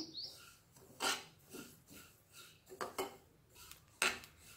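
Mustard seeds roasting on low flame in a pan for mango pickle, with irregular crackling pops and light scraping against the metal, several sharper bursts scattered among softer sizzling, close and fairly quiet.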